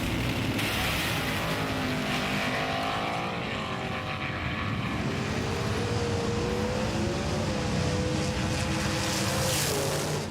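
Race cars roar past with shifting engine pitches sweeping up and down, a dense, continuous motor drone throughout the race with no voices.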